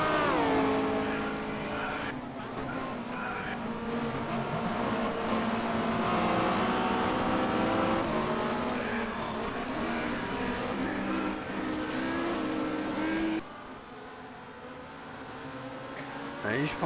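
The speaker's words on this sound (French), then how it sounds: "Peugeot qui avance très fort en ligne droite" A Peugeot touring race car at Barcelona in 1990 accelerates hard down the straight, its engine droning loud and steady with other cars mixed in, then dropping off abruptly near the end.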